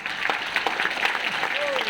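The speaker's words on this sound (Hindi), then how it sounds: "आप भी ताली बजाओ ना" An audience at a Modicare mentoring seminar claps briefly, a steady patter of many hands under a touch of voice near the end.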